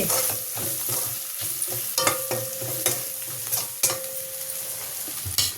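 Fish curry base seasoned with garam masala being stirred in a pan, a steady sizzle with repeated scraping strokes of a spoon through the thick masala, close and fairly loud, with no talk.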